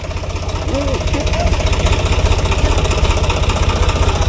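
A tractor engine runs with a steady low, rhythmic chug that thumps evenly throughout and stays fairly close. A faint voice is heard briefly early on.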